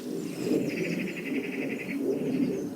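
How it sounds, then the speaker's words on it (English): A rapid, rattling scolding chatter of magpies runs steadily for a couple of seconds against a low outdoor rumble, with no voices. "there's a couple of magpies calling there with their scolding noise."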